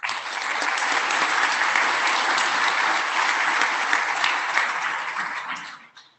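Sustained applause from a large audience at a technical conference plenary, a dense steady wash of many hands clapping that holds evenly for about six seconds, then quickly fades out.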